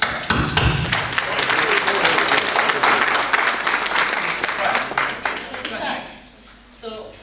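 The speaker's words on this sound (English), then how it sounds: "I think you deserve a round of applause." A conference audience breaks into a sustained round of applause, dense overlapping clapping from many hands that holds steady for about six seconds before thinning out and fading near the end.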